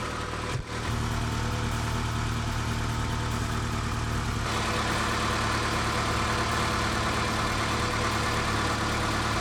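A Honda DC2 fitted with a Tanabe Hyper Medallion exhaust idles at a steady, low rumble heard up close. A brief knock sounds near the start, and the tone brightens slightly partway through.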